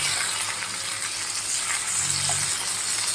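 Sliced pointed gourd (potol) sizzles steadily in hot oil, a close, continuous crackling fry with a faint low hum underneath and no talking.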